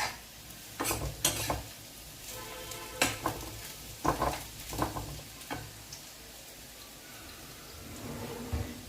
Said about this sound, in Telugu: చూడండి ఎలా చిట్టుపట్లాడుతున్నాయో మనకి ఆవాలు